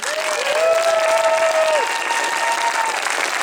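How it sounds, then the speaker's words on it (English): Sustained crowd applause from a theater audience after a 3D horror film premiere Q&A in Toronto, a dense, steady wash of many hands clapping at even loudness with a faint tone running through part of it. "another round of applause for these guys"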